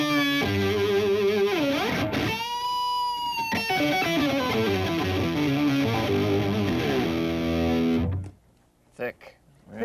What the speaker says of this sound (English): sometimes when we're getting a little bit aggressive, I'll pop on that octave pedal